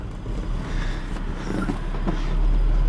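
A 1984 Nissan Datsun 720 pickup with a 5-speed and Weber carburetor drives along a 50 mph road, its engine and road noise a moderate steady hum that swells slightly as it gains speed, with no voices.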